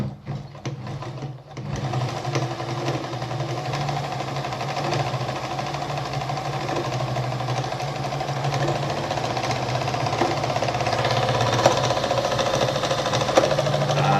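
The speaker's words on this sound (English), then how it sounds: "as you're sewing, the two mechanisms are going up and down, back and forth" An Adler 489A industrial sewing machine runs steadily at close range, a continuous even mechanical whir with a fast needle rhythm and slight rattle. It starts after a brief lower-level moment and holds without talk.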